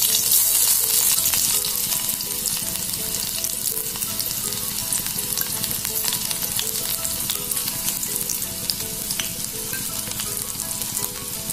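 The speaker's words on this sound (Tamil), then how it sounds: "கடுகு பொரிஞ்சதும் கட் பண்ணி வச்சுருக்கேன் சின்ன வெங்காயம்." Shallots frying in hot oil after mustard seeds splutter, a loud continuous sizzle with crackling pops that holds steady throughout, close up and alone.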